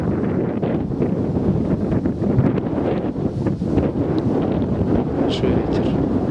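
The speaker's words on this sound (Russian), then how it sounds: "Большой ветер." Strong wind buffets the microphone outdoors near a waterbody where a pair of whooper swans search for water, a loud, constant rumbling roar lasting throughout.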